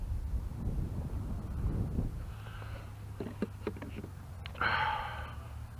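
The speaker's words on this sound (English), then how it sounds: "The wind keeps changing direction." Gusty wind blows across a microphone outdoors at a flying field where a large-propeller lawnmower model plane is being flown, a steady low rumble with a few brief knocks and a hissy burst near the end.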